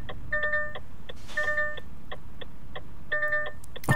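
An electric Renault truck in Euro Truck Simulator 2 gives off loud, repeated electronic beeps in short clusters, each burst a quick series of bright tones separated by brief pauses.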